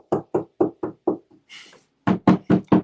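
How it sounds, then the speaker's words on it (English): Someone knocks on a door in two clear bursts, five sharp raps, then a brief rustle, then four more firm knocks, close and distinct. "I got someone knocking on my door."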